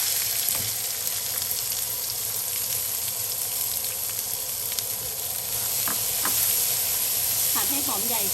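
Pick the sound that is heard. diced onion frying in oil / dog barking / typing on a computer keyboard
diced onion frying in oil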